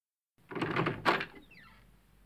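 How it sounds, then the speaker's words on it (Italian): Audio drama effect of a door handle being pressed down and the door opening: a close metallic clack and rattle, a sharper latch click, then a brief creaking swing that fades, with no voices. "la maniglia si abbassò"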